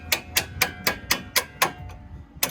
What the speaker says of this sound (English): I'm just gonna punch the bolt out.